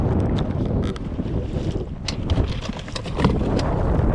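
Strong wind buffets the microphone on a bass fishing boat out on the water during an evening tournament, producing a continuous loud rumbling roar with gusty swells and occasional sharp knocks, with no talking.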